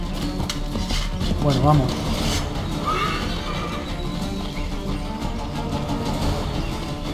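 A horse in Assassin's Creed III gives a clear whinny, a loud close rising and falling neigh, over a steady game background, and someone speaks briefly.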